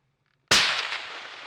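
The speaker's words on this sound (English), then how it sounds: "The first shot was perfect, right through the lungs." One sharp, loud rifle shot fired at an elk during a New Mexico hunt, a sudden crack followed by a decaying rumble and echo, alone and outdoors.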